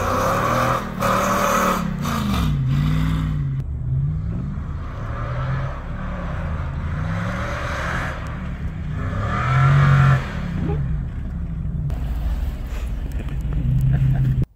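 A Toyota 4Runner engine revs up and down repeatedly while drifting in snow, its rising and falling whine sweeping in cycles, loud and continuous with a brief voice over it.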